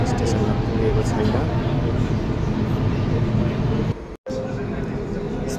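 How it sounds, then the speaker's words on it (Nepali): A Dubai Metro train pulls into a station with a continuous low rumble and rolling noise close by. A voice talks over it, and the sound cuts out briefly near the end before resuming. "ट्रेन चाहिँ स्टेसनभित्र छिरिसकेको छु"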